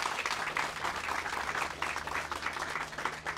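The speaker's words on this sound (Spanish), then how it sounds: "Dele un aplauso al Señor si usted se anima por eso." A church congregation applauds during a Spanish-language worship service, with dense, steady clapping that holds for a few seconds without a break.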